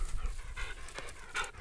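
Dogs panting steadily at close range, quick breathy rhythmic huffs repeating with no voices over them.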